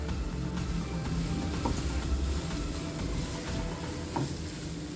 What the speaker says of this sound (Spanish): Ahora movemos para que se sofría junto con el ajo y la cebolla.